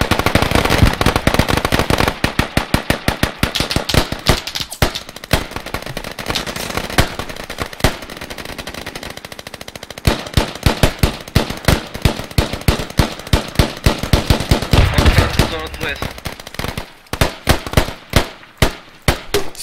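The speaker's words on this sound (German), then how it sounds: "Und hier wird schon wieder heftig geschossen." Heavy gunfire in the military shooter Squad: dense, loud bursts of automatic fire and rapid single shots, continuous for about twenty seconds with brief lulls.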